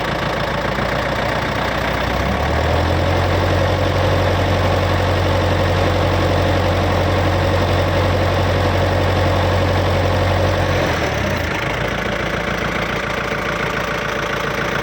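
A 2018 Kubota L5018 tractor's diesel engine idles steadily and loudly up close, a constant low knocking drone that shifts briefly near the end.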